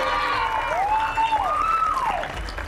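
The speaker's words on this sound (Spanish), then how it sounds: "¡Aplausos para la familia!" Audience applause for participating families at a televised Spanish-language game show grand final, steady clapping and crowd noise with a bright whistle-like sweeping tone over it.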